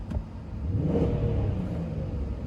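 A 2006 Range Rover L322 engine idling up close, a low continuous rumble with a slight rise in intensity early on, no voices.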